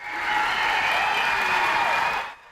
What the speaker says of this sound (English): gave him a standing ovation.